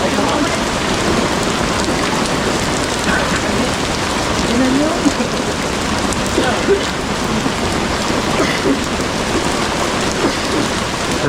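Heavy rain pours steadily throughout, a dense, constant hiss of drops on surfaces with no pauses, loud and close.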